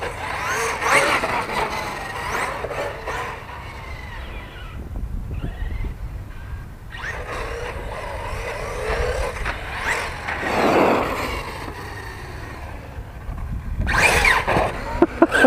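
A small electric motor of an Arrma Sentalion 6S RC truck whines and revs in bursts over roughly fifteen seconds, rising and falling with throttle, with scraping and rolling noise outdoors.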